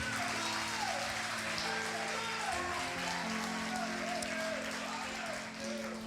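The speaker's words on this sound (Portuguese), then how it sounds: "Você pode dar um forte aplauso ao Senhor?" Church congregation at a worship service claps in a steady, dense patter resembling rain, moderately distant, with sustained music or hum underneath.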